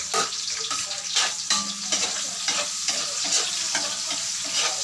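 Onion frying and being stirred in a pan for Cebuano dinuguan, a loud close sizzle with rhythmic scraping stirs throughout, no talking.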